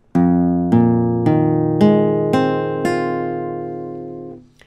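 Guitar strings plucked one at a time under an index-finger barre, six clean separate notes at an even pace, each ringing on and overlapping the last, close and clear with no voice.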